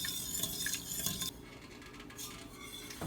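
Metal spoon scraping and clinking around a pot while butter melts on the stove for homemade fudge, with light irregular taps and swishes close by and no talking.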